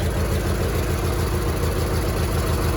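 A 1985 Roper tractor engine runs at a steady, adjusted RPM, giving a constant, close, loud mechanical drone without speech.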